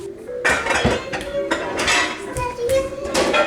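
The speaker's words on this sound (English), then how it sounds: "We'll rinse the potatoes, get them in the pot." Potatoes dropped into a metal cooking pot in a Southern home kitchen, giving repeated clattering clinks and knocks of metal cookware at close range, with no talking.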